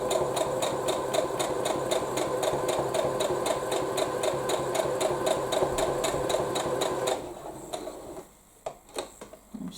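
A sewing machine stitches a quilt with a fast, even mechanical ticking that runs steadily, then breaks off into a few separate clicks and knocks as the stitching stops.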